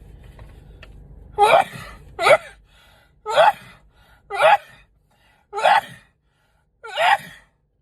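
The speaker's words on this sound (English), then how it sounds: "Got to sneeze one moment." A person sneezes six times in a row, sharp explosive bursts spaced about a second apart, close to the mic with silence between.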